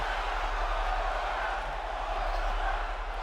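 A wrestling arena crowd in WWE 2K25 keeps up a steady, distant roar of cheering under a low electrical hum, with no single shout standing out.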